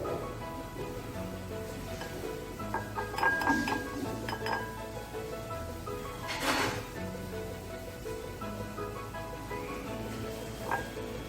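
Glassy clinks and scraping as loose soil is poured and spooned into a jar, with soft rattling taps and one louder rustling pour midway, no talking.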